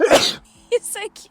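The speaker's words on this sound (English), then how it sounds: "I'm gonna sneeze." A person lets out one loud, close sneeze at the start, followed by speech.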